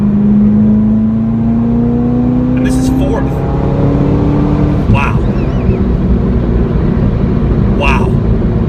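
A Chevrolet Corvette ZR1's engine revs hard under full acceleration, its rising drone climbing steadily through gears from close inside the car, with people talking and exclaiming over it.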